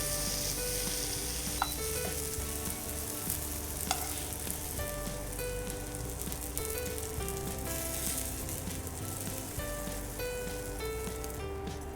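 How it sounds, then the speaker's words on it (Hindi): Vegetables stir-fried in pesto sauce in a pan give a continuous loud sizzle with scattered crackles and the scrape of stirring, close by and without talk. "individually stir fry this in the pesto sauce."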